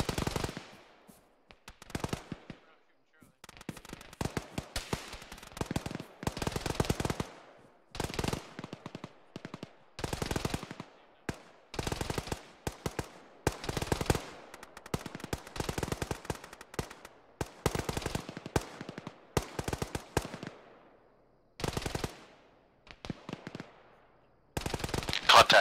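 Repeated automatic gunfire from the ArmA military video game, rapid bursts of machine-gun fire broken by short pauses over about twenty-five seconds, fairly close and loud, with occasional voices between volleys.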